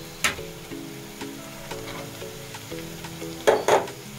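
Vegetables for cabbage manchurian sizzle gently in a hot pan, a soft steady fry with a few sharp clinks and scrapes of stirring, heard close with no talking.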